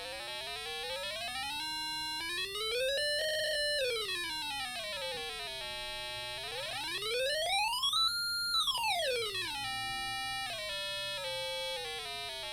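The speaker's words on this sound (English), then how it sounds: "let's try just sliding through the scale now and see how it sounds different" A buzzy electronic tone from a small speaker on an Arduino Uno kit glides smoothly up and down in pitch, sliding through a scale with rising and falling sweeps without pause.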